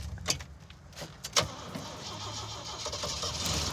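AMC Pacer engine starting on an off-road trip, with a few clunks and a cranking catch before the engine fires and builds into a steady running rumble, heard up close.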